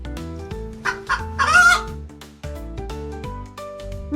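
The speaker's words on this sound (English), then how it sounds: "Hen." Hen clucking in a children's farm animal names segment, a few short clucks over a steady musical backing, moderately loud with no talking.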